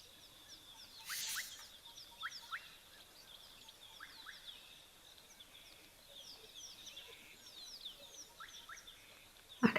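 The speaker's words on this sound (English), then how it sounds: "I can also hear way in the background a red-chested cuckoo calling" A red-chested cuckoo calls far off across a summer waterhole in KwaZulu-Natal bush, its faint, repeated whistled phrases coming at regular intervals over a quiet, airy background.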